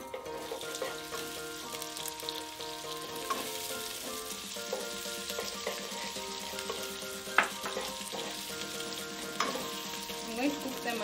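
Onions sizzle and fry steadily in about two tablespoons of cooking oil in a pan for a chicken curry, a continuous crackling hiss with occasional sharper pops and stirring sounds, close and moderately loud with no talking.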